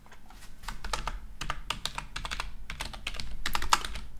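Fingers type on a computer keyboard nearby in a steady run of rapid key clicks with a few louder taps, over faint room hum and with no speech.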